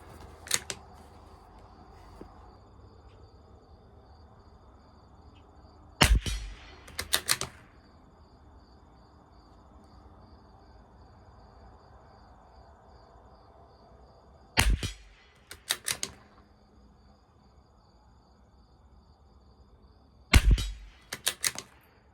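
Tikka T1x rifle shots fired at a 50-yard target during an ammo test, sharp loud cracks spaced in short bursts of two or three with quiet gaps between, set against a faint steady outdoor hum.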